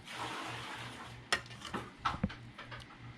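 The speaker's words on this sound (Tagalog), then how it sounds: "Lagay tayo ng dahon ng kamote. Yan. Meron pang munggo. No? Sarap ng munggo. Halo dito sa ginataan." A spoon stirs sweet potato leaves and mung beans into a simmering coconut milk stew, with faint scrapes and soft clinks against the pot over a low bubbling background, no talking.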